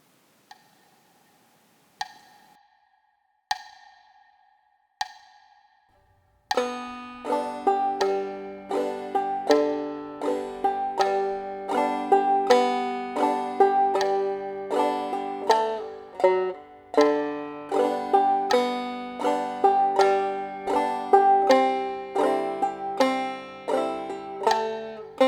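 Skip to My Lou played as a melody with thumb strum strokes in a bum-ditty pattern; a few soft single notes open, then a steady, close, plucked rhythm of picked notes and strums, alone.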